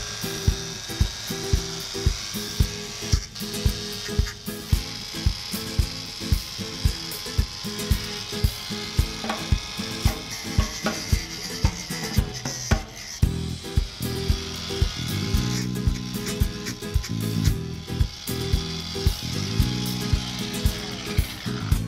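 A power sander grinds over epoxy filler on a sailboat's rudder and keel, buzzing steadily with a rapid pulsing rhythm and shifting pitch as it is pressed and moved, close and alone without talk.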